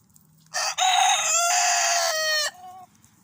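A rooster crows once, loud and near, in a long drawn-out call of about two seconds that trails off in a short tail, with a quiet background.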